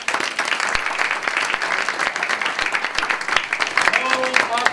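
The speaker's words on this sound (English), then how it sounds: "Applause to the gentlemen." Audience applause for two gentlemen volunteers at a magic show, a steady wash of clapping from a crowd that holds throughout, with some voices mixed in and a brief tonal sound near the end.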